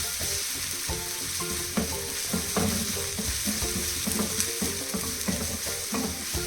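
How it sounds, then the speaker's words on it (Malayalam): Onion, green chili, ginger and curry leaves sautéing in hot oil give a steady, close sizzle with bursts of crackle and stirring clatter throughout, with no talking. "ഉള്ളി, പച്ചമുളക്, ഇഞ്ചി, കറിവേപ്പില എല്ലാം ഇട്ട് നല്ലോണം എണ്ണയിൽ വഴറ്റുക."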